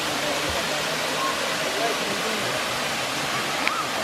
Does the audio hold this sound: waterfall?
yes